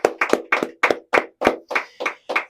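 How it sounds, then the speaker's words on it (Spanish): A church congregation claps in steady unison, about ten sharp, evenly spaced claps ringing close and loud with no talking over them. "Un aplauso al Señor."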